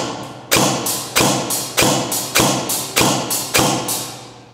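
A Begadi Sport Mod 5 A7 PDW airsoft SMG fires 0.25 gram tracer BBs in a steady paced rhythm of sharp, close thumping shots, about two per second, with no talk.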